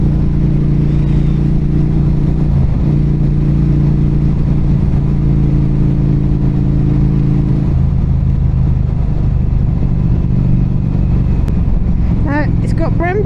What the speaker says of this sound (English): the twin exhausts look lovely, sound glorious